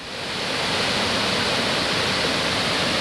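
Steady, full roar of Cumberland Falls, a large waterfall on the Cumberland River, pouring continuously at close range with broadband rushing noise and no voices.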